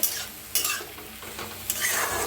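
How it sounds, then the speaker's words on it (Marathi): Vegetables roasting in a little oil in a pan, with soft sizzling and a few brisk stirring scrapes in short bursts, faint and close. "तर थोडंसं तेल वतून भाजून घेऊया."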